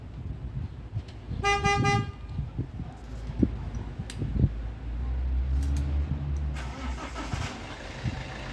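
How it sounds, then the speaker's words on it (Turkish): Diesel car started remotely by key fob: a short toot from the horn, a few clicks, then the engine cranks and settles into a low steady idle; faint voices in the background. "Dizel modu devrede olduğu için bekleyerek arabayı çalıştırdı."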